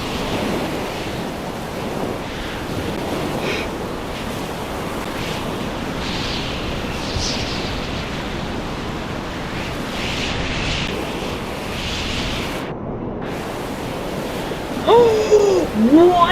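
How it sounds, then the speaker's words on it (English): Ocean waves surge and wash continuously against a cargo ship in the Stormworks game during a snowstorm, a loud, steady broadband roar with wind noise throughout and a brief louder swell near the end. "I have to fight against these waves so hard"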